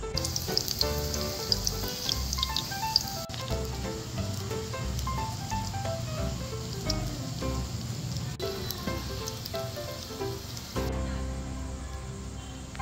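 Water spinach omelette with chili and garlic frying in hot oil, a steady crackling sizzle running beneath louder melodic background music for the whole stretch.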